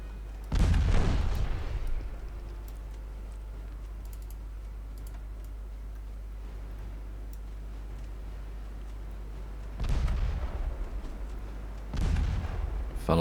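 Warship guns fire in the naval strategy game Ultimate Admiral Dreadnoughts, with two loud booming salvos separated by a long low rumble, the second salvo breaking into several heavy blasts.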